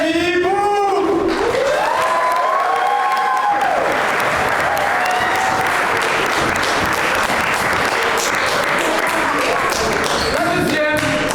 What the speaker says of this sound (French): Je vous demande d'applaudir et d'accueillir Betty Boo.